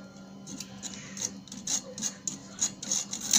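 Complan powder is sifted through a sieve with a quick series of soft rhythmic taps and light scratchy rubbing, close and fairly quiet, with no talking.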